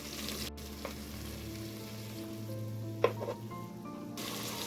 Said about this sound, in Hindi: अब हम चिकन को 3 मिनट तक हाई फ्लेम में एक तरफ से फ्राई कर लेंगे अच्छे से।